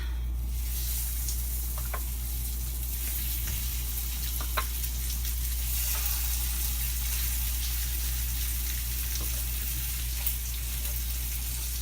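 Lamb chops searing in melted butter in a pan, a continuous close crackling sizzle with occasional sharper pops, steady throughout with no talk.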